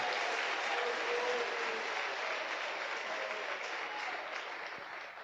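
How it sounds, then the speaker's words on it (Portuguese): A church congregation applauding during a Sunday communion service, steady dense clapping filling the room throughout, slightly fading toward the end. "Você pode aplaudir a Jesus por isso? Aplauda."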